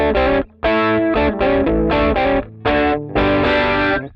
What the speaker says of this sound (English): So this song starts off with a really cool bluesy riff